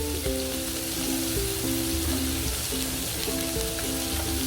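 Green chillies sauté in a hot pan with a dense, loud, continuous sizzle like heavy rain, close up, with faint tonal hum underneath and no voices.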